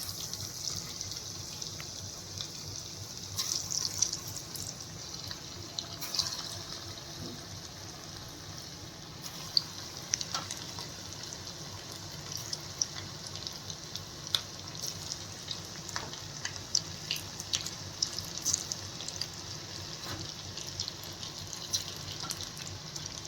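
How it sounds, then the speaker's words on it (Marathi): Marinated prawns for prawns koliwada sizzle in hot oil, a steady close hiss of frying with faint crackles throughout and no talking. "आता मी तळायला घेते।"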